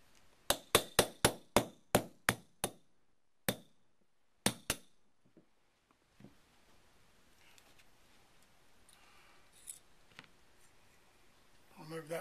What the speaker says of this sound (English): going to drive this pin out. Sometimes it's a little easier said than done.